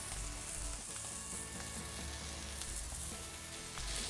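Onions browning in olive oil with salt and black pepper alongside picanha in a pan give off a loud, steady sizzle that runs unbroken throughout, with no talking.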